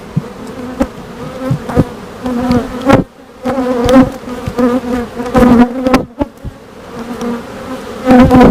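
Honey bees swarming around an opened hive during a frame inspection, loud close buzzing that swells and fades as individual bees fly past the microphone in repeated bursts.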